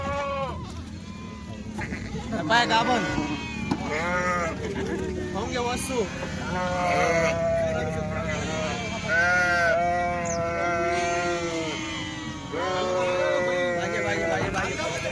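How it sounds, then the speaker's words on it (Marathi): Tall Kathiawadi goats and sheep bleat repeatedly from a loaded vehicle, many overlapping wavering calls close by and loud, with someone talking over them. "मेंढ्या मेंढ्या"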